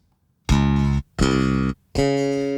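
Three sustained, clean bass guitar notes recorded straight through a DI, each plucked and held for about half a second with short gaps, deep and clear with no effects.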